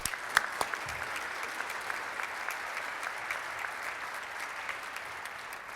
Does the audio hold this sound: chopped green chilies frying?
no